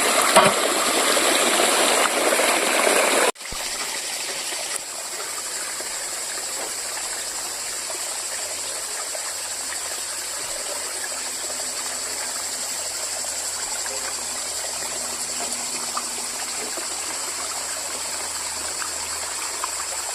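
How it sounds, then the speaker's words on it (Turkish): Irrigation water runs steadily toward orchard trees in a village, a continuous close rushing flow that is louder for the first few seconds, then drops to a gentler, even trickle. "buraya giden suyu azalttım arkadaşlar"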